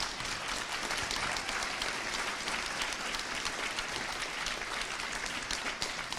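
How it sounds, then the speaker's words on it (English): Steady, dense audience applause at a genetics and GI dysfunction symposium, holding an even, moderately distant level throughout without a break. "So give yourselves a round of applause."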